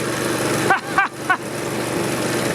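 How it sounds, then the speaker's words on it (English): A small lawn mower engine, internally damaged after striking something, runs roughly with a loud steady drone broken by three sputtering dips and stumbles. "We got an engine running, but obviously there's internal damage and it's not worth fixing."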